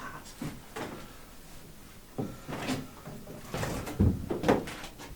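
Inside an old settler's cabin, several dull wooden thunks like a door or cupboard swinging and knocking sound at irregular intervals, faint to moderate, with the loudest near the end.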